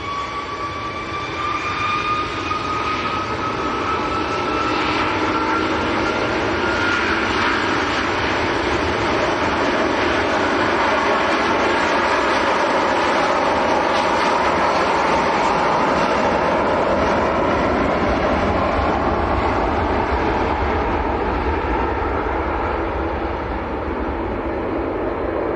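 A long-haul jet airliner at Manchester Airport roars loudly and steadily for nearly half a minute, its engine whine sweeping and rising as it powers along, with no voices over it.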